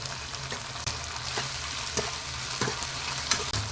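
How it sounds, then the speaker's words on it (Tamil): Onions and tomatoes sauté in a pan for a Tamil chicken kulambu, a soft continuous sizzle broken by occasional stirring scrapes and clicks, quiet and close. "இப்போ பாருங்கள், தக்காளி வெங்காயம் ஓரளவு வதங்கிருச்சு."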